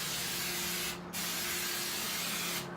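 Spray insulation hisses steadily out of a nozzle while insulating a 2013 Mercedes Sprinter van, a close, loud continuous spray with a brief dip, no talk over it.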